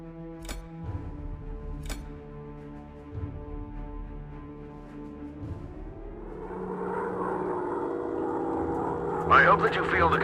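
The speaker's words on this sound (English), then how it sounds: "Now gently guide the plane over a target and order the crew to drop the bombs." A bomber plane drones steadily in a classic warplane video game, a sustained engine hum that swells louder toward the end, with two sharp clicks early on and a voice talking over it.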